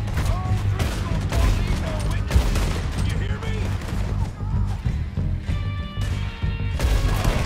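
Rapid gunfire rattles through a shootout in the video game Red Dead Redemption 2, with dense, overlapping volleys of shots continuing steadily throughout, loud and close, while voices talk underneath.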